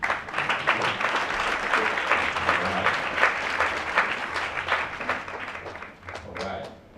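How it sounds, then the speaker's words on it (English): Applause from the audience at a Black voters candidate forum as judicial and city commissioner candidates gather at the front of the room; steady, dense clapping fills the room for about seven seconds before tapering slightly, with some voices mixed in. "Give a round of applause."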